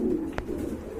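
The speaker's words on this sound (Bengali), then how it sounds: "মাশাআল্লাহ আরেক জোড়া কবুতর ভাই, এটা সিরাজি?" Sirazi pigeons on a large pigeon farm give low, rolling coos, a steady throaty murmur with a couple of brief sharp knocks or flutters, fairly close and with no talking.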